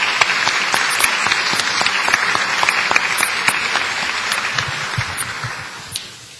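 Audience clapping for Marcelino de Freitas at a tertulia gathering, dense steady applause of many hands that carries on for several seconds, then thins and fades out toward the end.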